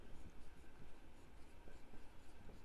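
Steady scratching of a pen or marker writing out a math solution for a class 9 algebra lesson, continuous and close, running alone for the whole stretch.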